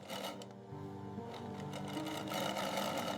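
An industrial sewing machine stitches exotic python leather in a luxury leather-goods factory, giving a steady, continuous mechanical whir that holds close and even throughout.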